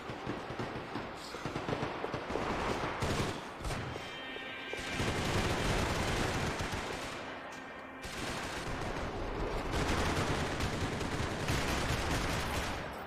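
Loud, sustained gunfire from Max Payne 3 multiplayer, with dense bursts and volleys of shots filling most of the stretch, a brief lull near the middle, and no talking over it.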